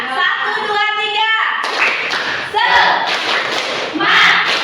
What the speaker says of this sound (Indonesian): Bisa tepuk semangat? Bisa. Oke, kita bareng-bareng tepuk semangat ya.